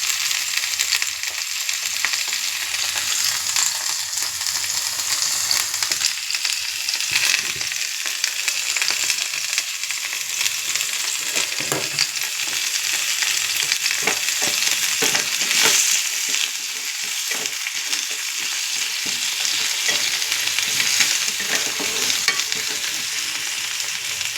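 Eggplant sizzles in oil for a long stretch, a strong even crackle overlaid with repeated scraping and clinking as the pieces are stirred around the pan nearby; nobody speaks.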